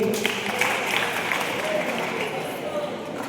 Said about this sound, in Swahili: pigeni kijana makofi